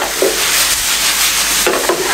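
Chicken jalfrezi cooking in a pan, a steady loud sizzle with a couple of brief stirring scrapes, no voices.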